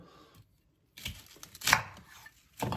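Oremake Sheepdog kitchen knife slicing through fresh spring asparagus, a few short crisp cutting sounds close by with brief pauses between strokes, no talking.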